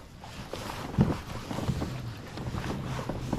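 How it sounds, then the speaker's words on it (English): Wind gusting across open water on a lake, buffeting a small fishing boat near a dock as a steady broadband rush with a stronger gust, close and continuous. "the wind's blowing me right into the dock"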